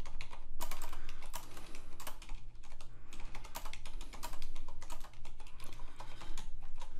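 Fingers type steadily on a computer keyboard, a quick, close run of light clicking keystrokes with short pauses and no speech.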